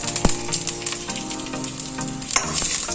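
Mustard seeds, cumin and dried red chillies frying in hot oil for a bottle gourd curry, a continuous close sizzle with scattered pops and crackles and a stirring scrape.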